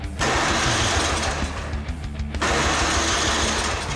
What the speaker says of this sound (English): I'll start by testing the electric start and see if the engine turns over